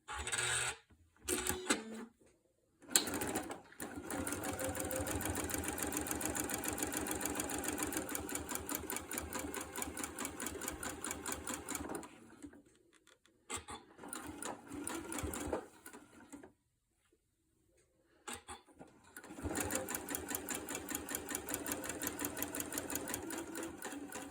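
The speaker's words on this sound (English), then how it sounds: "We're just going to go and sew a 1/4 inch seam allowance down this line." A sewing machine sews a quarter-inch seam in several bursts, its rapid mechanical needle clatter running steadily, then stopping for short pauses and a longer silence before starting again, close with no talking.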